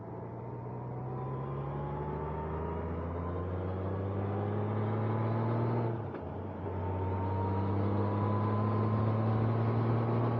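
A Honda Goldwing motorcycle running a car tire on its rear wheel rides along, the engine a steady low drone held in a fairly high gear, with a brief dip in tone partway through before it settles again.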